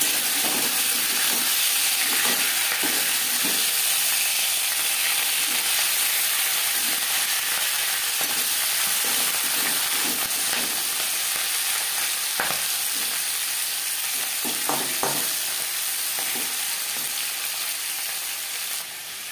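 Fish heads fry in hot oil in a large kadai for Bengali macher mathar kalia, giving a steady, loud sizzle throughout, with scattered clicks and scrapes as pieces are turned.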